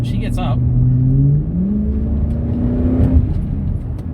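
A loud V8 engine in a Ford BF mkII XR8 ute revving up hard, its deep tone climbing and holding, close by, with a voice speaking over it.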